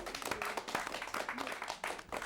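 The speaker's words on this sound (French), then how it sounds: "vous pouvez applaudir" A studio audience applauds at a televised cinema programme, producing a steady patter of many hands clapping, fairly faint and distant throughout.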